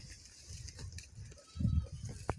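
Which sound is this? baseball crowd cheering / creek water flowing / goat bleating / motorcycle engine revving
goat bleating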